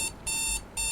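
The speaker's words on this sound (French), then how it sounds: "Arrêtez avec ce réveil, il me casse les oreilles là." Alarm clock ringing in quick repeated bursts of a high, buzzing electronic tone, loud and close, with no speech.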